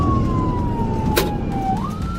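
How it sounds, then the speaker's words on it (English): Police car siren wailing in a slow, steady tone that drops and then rises again, loud and continuous over road noise during a high-speed chase, with a brief sharp burst midway. "Flashlights and sirens blared."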